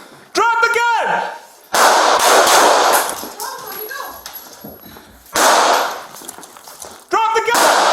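Gunfire at police officers during a bodycam-recorded arrest of a handcuffed woman: several loud, harsh, close-range blasts come in separate bursts between loud shouting.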